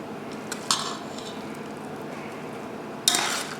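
Cutlery clinks against a bowl as a mixture is spooned into cornbread mix for meaty dressing, two brief bright metallic taps over a steady low kitchen hum.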